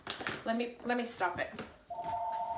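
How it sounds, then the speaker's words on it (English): A telephone rings indoors during a talk, its tone mixed with speech at first, then one steady electronic ring that continues alone to the end. "Oh, sorry, that's the phone. Don't mind the phone."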